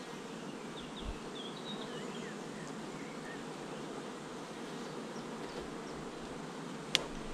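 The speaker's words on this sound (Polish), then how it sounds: "Pszczoły delikatnie huczą" A steady, dense hum of honeybees inside a hive fills the whole stretch, many bees droning together close by, with a faint low thump near the start and a brief click late on.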